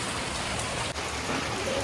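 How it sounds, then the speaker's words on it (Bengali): Steady rain pours down, a dense, even hiss of drops hitting surfaces, close and continuous. "বৃষ্টি পড়ে যাচ্ছে"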